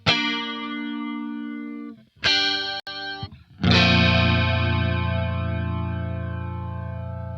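An electric guitar played through a flanger pedal, with sustained chords that ring out, are cut off and then restruck, sweeping slowly with a wide, swirling jet-like shimmer.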